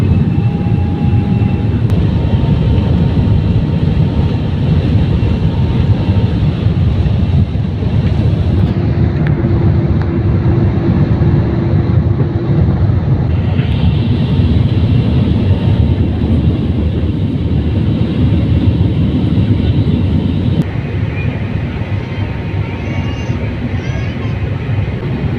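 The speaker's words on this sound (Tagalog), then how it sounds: "Cabin crew prepare for takeoff." Airliner engines roar steadily during takeoff, a loud, continuous low rumble heard from inside the cabin, with faint cabin sounds and a brief tone over the constant drone.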